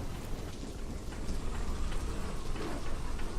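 Heavy storm rain pours steadily, with dense close patter and a low rumbling bed underneath, keeping a constant wash of noise from start to finish.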